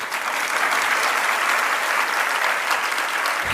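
A crowd at a sermon claps steadily and loudly, a dense, even wash of applause from many hands lasting throughout.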